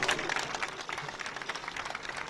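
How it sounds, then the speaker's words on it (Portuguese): Applause from mourners at the burial of a sertanejo singer in the Parque das Palmeiras cemetery, a steady wash of clapping across the whole stretch, moderately close, with faint voices mixed in. "Em cada momento que passava, salva de palmas na despedida"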